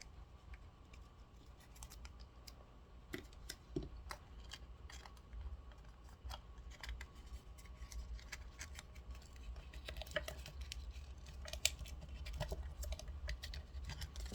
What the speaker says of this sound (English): I need to trim a little bit off this